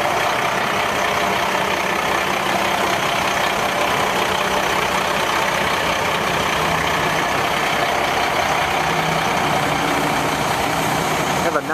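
A 1994 Ford L8000 fuel truck with an aluminum tank and an 8.3 liter Cummins diesel runs steadily at idle, a close, constant engine rumble with no break across the whole stretch.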